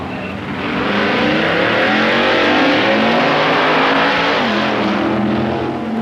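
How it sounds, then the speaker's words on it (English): 1964 Indy Nationals drag race between the Candy Stripe Ram Chargers Dodge and a Plymouth, loud roaring V8 engines accelerating hard and sustained, a dense continuous howl filling the recording. "The Candy Stripe Ram Chargers Dodge, driven by Jim Thornton, takes on Paul Russo's Plymouth"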